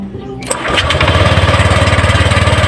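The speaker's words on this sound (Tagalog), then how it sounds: "paanda rin na natin yung makina" A Honda Click 125i scooter engine cranks and fires, then settles into a loud, steady running putter close by.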